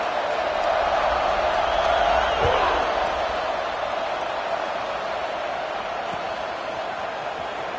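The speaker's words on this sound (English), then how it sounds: "that last score took a little oomph out of this crowd" Football stadium crowd at an NCAA college game, a broad steady roar of many voices filling the space, loud and continuous with a brief thump partway through.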